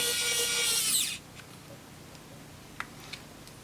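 A Tonfon electric screwdriver whirs loudly for about a second while winding a screw, then cuts out, leaving a quiet room with a couple of faint ticks.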